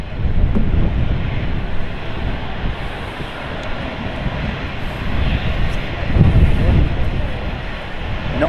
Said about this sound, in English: No. Classic A320. The CFM 56 is on board.